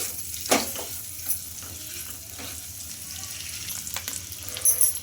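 Masalas fry quietly in a kadai with soft, steady sizzling, punctuated by occasional stirring scrapes and a few sharper clicks of the spoon against the pan.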